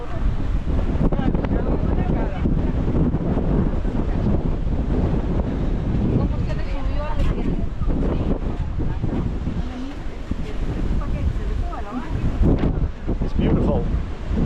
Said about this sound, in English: The wind is so strong today.